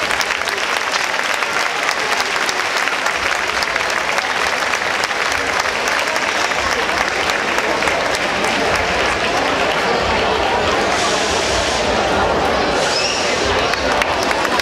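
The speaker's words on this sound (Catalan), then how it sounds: "Un fort aplaudiment per ell, sí senyor." Dense, steady applause from a crowd fills the whole stretch at close range, with no pauses, during an awards ceremony for decorated streets at the Festa Major de Sants.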